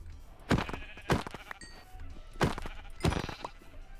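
Sheep bleat in the video game Minecraft, several short nasal calls spaced a second or so apart, fairly close and clear, with faint game thuds between them and no talking.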